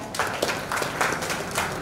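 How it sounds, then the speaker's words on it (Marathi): Audience applause for a young girl after she recites her poem at a children's poetry gathering, a brief patter of clapping, moderately close and fairly light. "तृप्तीसाठी जोरदार टाळ्या."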